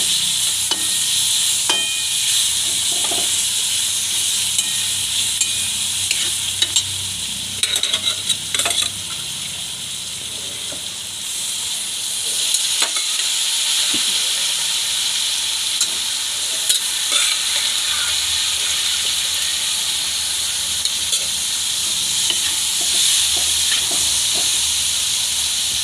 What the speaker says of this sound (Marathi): आपण टोमॅटो टाकून घेऊ चांगला। 1 मिनिटासाठी परतून